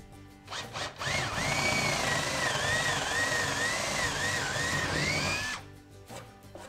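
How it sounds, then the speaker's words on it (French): A cordless drill with a large-diameter bit whines steadily for several seconds as it bores into wood for a beehive, its pitch wavering under load, with short bursts before and after. "une visseuse avec un bon forêt d'un assez gros diamètre"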